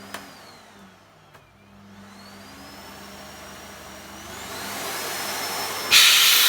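A 2,000-watt Hoover Freemotion vacuum cleaner motor runs alone, starting low and steadily rising in pitch and loudness as it spins up, ending with a louder rush of airflow.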